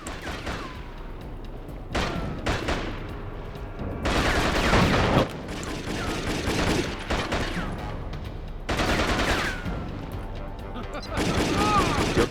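Bursts of gunfire from the video game Jet Li: Rise To Honor come in loud dense volleys separated by brief lulls, with a voice talking over parts of it.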